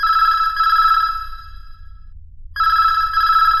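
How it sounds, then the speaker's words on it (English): A telephone rings at an empty hospital nurses' station, two bursts of electronic trilling, the first longer, separated by a clear pause, close and alone in the quiet. "A phone ringing at the empty nurses' station."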